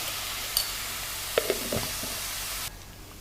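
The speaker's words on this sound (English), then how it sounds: "the salt enables the onions to brown faster" Onions frying with a pinch of salt for a minced mutton biryani with dhalia, a steady bright sizzle with a few spatula taps and stirs, cutting down abruptly near the end, no voices.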